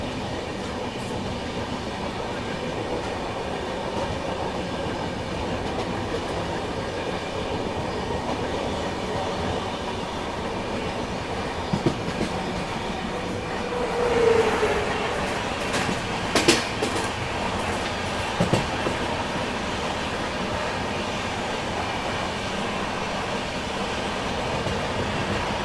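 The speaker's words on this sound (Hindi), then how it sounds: "क्योंकि फिलहाल सामने से जयपुर नागपुर तो आ चुकी है," The Jaipur-Nagpur express rumbles past at a crossing in an Indian ghat section, a long steady roar of wheels and cars with a brief squeal and a few sharp clacks partway through.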